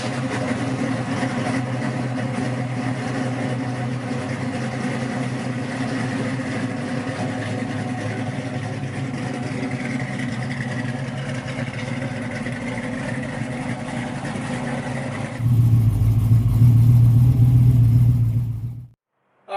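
A Chevrolet Nova with a freshly rebuilt motor and retorqued heads, idling with a steady low rumble that swells into a loud, deep rev near the end before cutting off abruptly.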